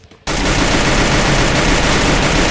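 Gunfire rattles in a Free Fire match, starting abruptly after a brief quiet moment and then running as dense continuous bursts, loud and close.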